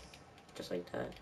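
Quiet, scattered plastic clicks from game controller buttons, a few soft taps spread unevenly beneath a voice speaking briefly.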